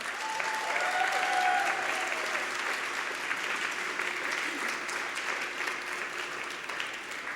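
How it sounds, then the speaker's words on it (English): Conference audience giving a sustained round of applause at a tech talk event, steady and even throughout, heard from within the room with a faint voice briefly audible early on. "Can we give these people a huge round of applause?"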